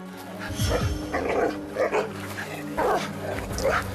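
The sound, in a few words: Jindo dog and Malamute growling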